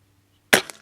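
A single sharp crack from an Umarex Walther Reign .25 caliber PCP air rifle, loud and close, with a quick decay and a faint echo tail, preceded by near silence.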